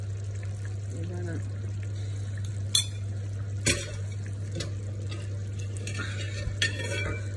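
Peanuts fry gently in palm oil over low heat for sweet okok, giving a steady soft sizzle with a low hum beneath and a few sharp clicks of a utensil against the pot.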